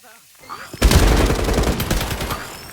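Gunfire in the video game FragPunk: after a brief quiet lead-in, a sudden loud burst of rapid shots rattles on for about two seconds, close and dense, with faint voices underneath.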